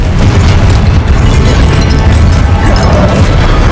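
Confringo blasting spell explosions in Hogwarts Legacy battle, a loud, sustained rumbling boom with heavy low-end crashes running without pause.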